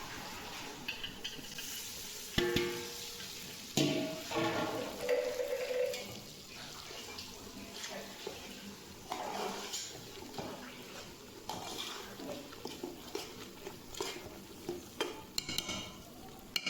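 Semolina (rava) being stirred as it roasts in a pot on a large stove, faint intermittent scraping and clinking strokes of the spoon with soft sizzle, no voices.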